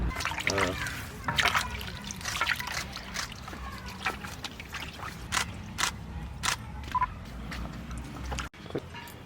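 Water trickles and splashes as raw mangoes are washed by hand, with irregular drips and sloshes close by while someone talks over it.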